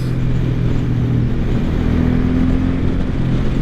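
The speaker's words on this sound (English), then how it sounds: "When you really open the throttle up all the way, it just has so much pulling power." A 2023 Suzuki Boulevard M109R B.O.S.S. motorcycle at wide-open throttle, a loud sustained engine drone with a steadily pulling low growl and heavy wind rush, heard from the rider's position.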